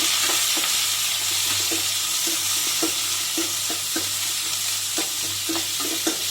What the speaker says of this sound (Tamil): ஒரு 2 சின்ன வெங்காயம் கட் பண்ணி சேர்த்துக்கலாம். இது நல்லா வதக்கி விட்டுக்கலாம்.